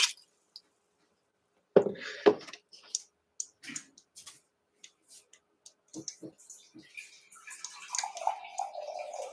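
Water is poured onto red lentils in a pot for dal, a soft splashing and trickling that builds after a few quiet clicks, faint and close.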